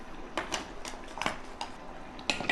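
Fresh mussels shifted around in a metal cooking pot, shells clattering and scraping in scattered bursts of clinks, close and fairly quiet, with no voices.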